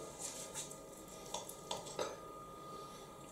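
A knife cuts through a pan-fried chicken fillet on a plate, giving a few quiet, distinct clinks and scrapes of metal against china.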